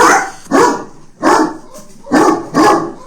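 A dog barks in four loud, spaced bursts, close by, with brief pauses between each bark and no talking.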